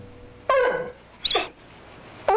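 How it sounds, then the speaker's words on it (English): A pet dog gives three short, close whimpering cries separated by brief pauses, each a high, thin whine against a quiet room. "She would whimper and cry any time she came near that room."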